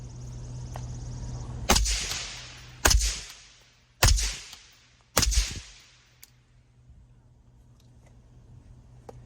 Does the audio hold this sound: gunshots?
yes